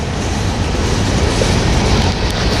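A freight train rolls past at Tehachapi, a loud close continuous rumble and rattle of railcars with a dense low roar and no voices.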